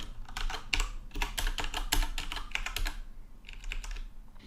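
Rapid, uneven keystrokes clatter from a computer keyboard as code is typed, with short bursts and brief pauses between them, close and fairly clear, with no voices.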